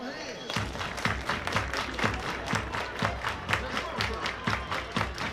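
A baseball crowd of around a thousand claps in a steady rhythmic beat at a night game, even and fairly loud, with a faint voice in the background.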